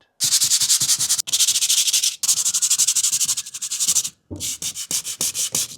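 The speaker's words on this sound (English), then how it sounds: "Sanding is done." Steady, rough scraping of sandpaper rubbed back and forth over a laptop's hard surface in long strokes, loud and close, with short breaks between passes.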